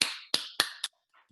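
A few sharp hand claps ring out in quick succession, four distinct bursts in under a second from a small group at a presentation, then quiet.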